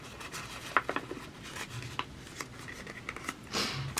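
Paper crinkling and rustling as folds of a Gelli-printed sheet are pressed inward while shaping a small 3D book, with several short crisp creases and taps at close range and no talking.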